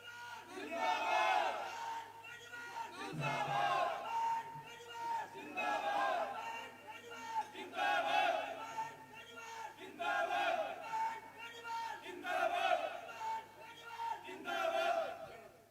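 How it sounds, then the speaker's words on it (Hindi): A large crowd at a political rally in Neem Ka Thana cheers and shouts in a welcome, a loud, sustained roar that swells in repeated waves over about fifteen seconds. "एक बार जोरदार तालियों से स्वागत भाई साहब छुट्टन जी यादव का।"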